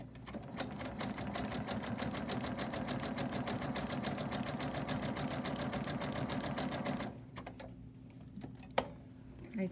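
A domestic sewing machine running fast and steadily for bobbin work with metallic thread, a rapid even mechanical chatter close by for several seconds before stopping, followed by a few faint clicks and handling sounds.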